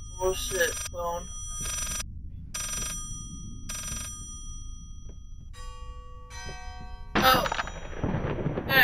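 A telephone rings in a steady series of repeated bursts, starting with a shouted voice over the first ring and ending with a sudden loud crash-like burst of noise.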